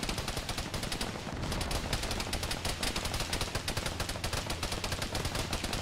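Sustained automatic gunfire in the Arma 3 video game, a fast, even stream of loud, close shots that barely pauses, with overlapping reports forming a dense, continuous rattle.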